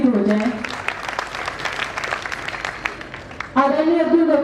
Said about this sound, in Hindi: एक बार जोरदार तालियां आप सबके लिए भी हो जाए